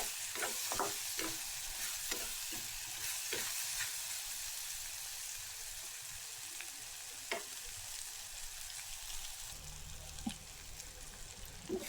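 Fenugreek seeds sauté in oil in a pan as the base for an eggplant and prawn curry, giving a steady, close sizzle punctuated by sharp spatula clicks and scrapes.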